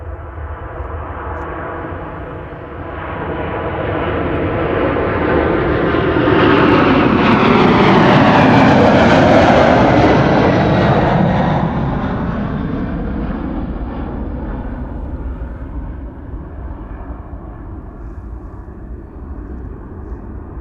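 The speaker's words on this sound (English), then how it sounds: "This is United Airlines flight 908 to Chicago, and that's the third 767-300 of the show." A United Airlines Boeing 767-300 departs, its jet roar swelling loud and close with a broad rising-and-falling sweep around the midpoint, then easing into a steady fading rumble as it climbs away.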